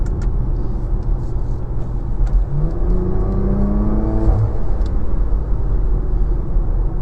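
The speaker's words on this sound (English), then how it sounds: "Let's close the exhaust valves." A 2017/18 Porsche Macan GTS engine revs up with exhaust valves closed and holds a steady, loud mechanical roar, with a deep rumbling hum underneath throughout.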